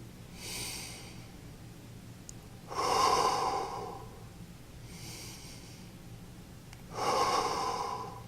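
Deep, slow breaths while holding a yoga plank for back-pain core strengthening, alternating long airy inhales and exhales in a steady rhythm, close and fairly quiet, with no talk.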